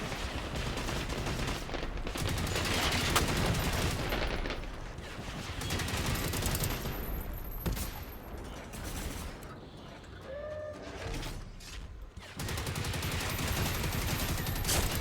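Gunfire in the shooter game Generation Zero, with armor-piercing rounds fired at a harvester robot tank, comes as bursts of rapid shots alongside mechanical clanks, creaks and metallic rattles, loud and dense with brief lulls.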